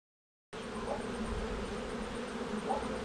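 Bees in a crowded, busy hive make a dense, continuous buzzing drone that starts abruptly after a short silence and holds steady and close throughout.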